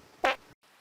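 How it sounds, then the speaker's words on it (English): A single short, raspy fart from a dog, close and moderately loud, followed by quiet. "he farts a lot"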